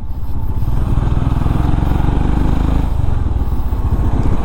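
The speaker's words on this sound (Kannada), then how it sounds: "ಎಕ್ಸಾಸ್ಟ್ ಭಾರಿ ಹೊಂಟ ಸೌಂಡ್ ಇದು" Royal Enfield Himalayan motorcycle fitted with a loud aftermarket exhaust, idling and revving close by with a deep, steady throbbing burble that holds constant throughout, no voices over it.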